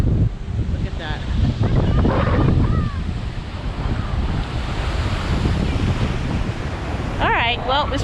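Rough ocean waves roll in at a Myrtle Beach shore near a pier, a loud, constant surf roar heavily buffeted by wind noise on the microphone, with a brief faint voice near the end.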